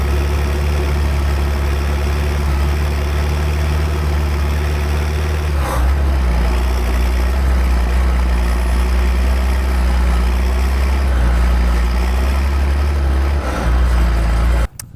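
A Massey Ferguson 3655 tractor, its fuel pump tweaked, runs with a heavy, steady diesel drone and a low throb. The engine note shifts briefly near six seconds and again at the end before a sudden cutoff.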